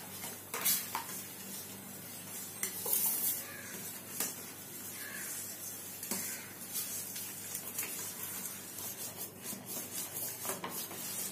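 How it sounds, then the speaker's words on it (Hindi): Semolina being stirred into boiling water in a pot on a lowered gas flame, giving soft, continuous rubbing and scraping with occasional clinks of the spoon against the pot. "अब मैं इसमें रवा डाल देती हूँ सेमोलिना और अच्छे से इसको स्टर करना है।"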